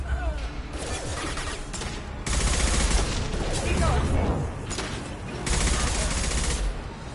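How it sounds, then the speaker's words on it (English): Sustained heavy gunfire in the Mass Effect 2 video game, a dense, continuous roar of rapid shots and crackling impacts that surges louder in bursts, close and loud throughout. "Taking heavy fire!"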